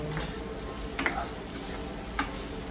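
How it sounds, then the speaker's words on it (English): Ground beef browns in a pan with a constant close sizzle, broken by a couple of sharp spoon taps, and no talk. "Let's let this brown some more. I like my beef pretty browned."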